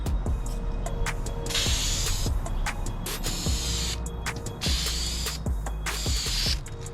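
Gloss black wheel paint hisses from a spray can onto a carbon fiber trunk in several bursts, broken by short pauses and faint clicks of the nozzle.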